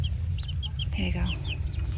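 A hen gives a series of quick, repeated clucks close by while calling her chicks outdoors near the coop, a steady run of short calls over low background rumble, with a voice briefly audible.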